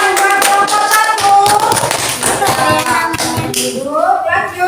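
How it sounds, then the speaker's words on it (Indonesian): Classroom of children clapping for a group in an Islamic education lesson, quick rhythmic claps mixed with kids' voices and a teacher speaking over them. "tepuk tangan buat kelompok 1."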